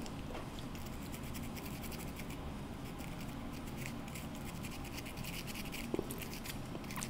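A metal pendant piece is scrubbed clean before enameling, with a faint, close, continuous rapid scratching and brushing texture and no talk.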